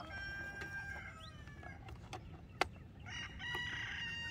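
Faint rooster crowing from some distance, with drawn-out tonal calls over a quiet outdoor background and a few scattered clicks.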